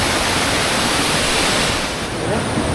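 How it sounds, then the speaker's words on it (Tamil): A waterfall on the Agasthiyamalai (Agasthyakoodam) forest trek in the Western Ghats pours in a loud, steady, broadband rush that fills the whole stretch close by, with no voices. "இங்கே ஒரு அருவி இருக்குது அருமையாக இருக்குது"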